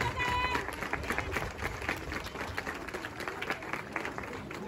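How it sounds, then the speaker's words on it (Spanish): Crowd applause at the awards for a 5K elite race's third-place runner, light scattered clapping outdoors, mixed with murmuring voices and a short electronic tone at the start. "El aplauso para Gael, que es nuestro tercer lugar."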